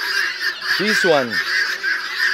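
Guinea fowl give two quick rising-and-falling honking calls, close and loud, over steady background birdsong and ambient hum; a voice speaks briefly.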